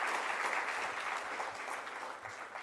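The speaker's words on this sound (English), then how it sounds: "Another round of applause for his reflections" Steady applause from an audience at a public lecture after a central bank governor's remarks, a dense continuous patter of clapping that holds evenly throughout and fades slightly toward the end.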